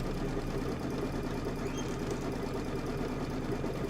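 A sewing machine runs continuously and close while stitching down Kimberbell Hello Sunshine applique blocks, a dense, even mechanical whir with no pauses.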